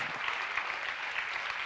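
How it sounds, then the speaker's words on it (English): A crowd at a talk event applauds, steady dense clapping that holds at an even, moderate level for the whole short stretch with no voices over it. "Round of applause for Laurence Fischer, please."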